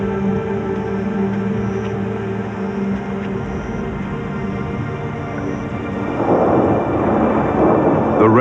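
Rumbling thunder rolls over steady rain, low and broad throughout, swelling into a louder, harsher burst of downpour near the end with no voices.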